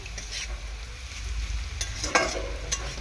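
Food frying for fried rice in a pan is stirred with a utensil, a steady low sizzle broken by a few sharp scraping strokes and clinks near the end.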